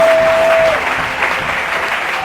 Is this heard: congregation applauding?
yes